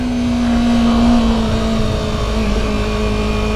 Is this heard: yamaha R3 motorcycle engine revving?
yes